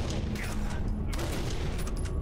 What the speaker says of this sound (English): Oh, you're trying to shoot me, huh? Ah, I've been shot!